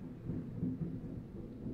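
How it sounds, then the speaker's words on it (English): Low rumbling thunder rolls steadily through a storm, a deep continuous grumble with a slightly louder swell midway, fairly distant and heard alone without rain or voices. "that thunder and lightning?"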